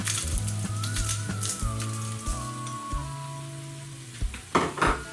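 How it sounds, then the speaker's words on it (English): Whole garam masala spices hit hot oil in a pan while cooking an Indian village-style beef soup, giving a steady soft sizzle and crackle under tonal background music, with a few louder spatters near the end. "I'm going to put the whole garam masala."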